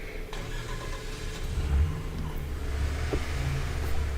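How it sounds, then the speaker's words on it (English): A van engine rumbles steadily and revs up slightly partway through, heard from inside or close by with no talking. "the van sounds like it's got an engine sound"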